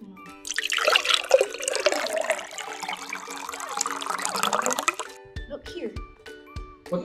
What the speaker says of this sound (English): Now we need to add some water.